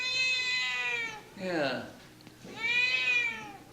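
Cats at an adoption center meowing in several drawn-out calls, one near and loud, a brief pause, then another long meow, with a person speaking briefly in between.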